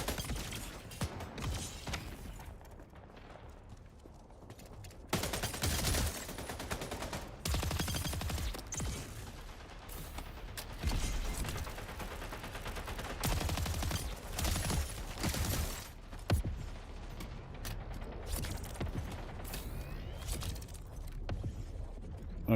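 Weapon gunfire in the video game Splitgate 2: dense, loud bursts of automatic shots and clattering game effects running almost continuously, with brief lulls between volleys.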